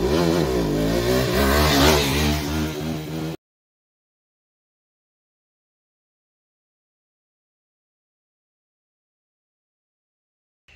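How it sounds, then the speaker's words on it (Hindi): A KTM RC 390 motorcycle revving hard during a wheelie, its loud rising engine note lasting about three seconds before cutting abruptly to silence. "अब मैं आपको करके दिखाऊंगा कि व्हीली कैसे करते हैं।"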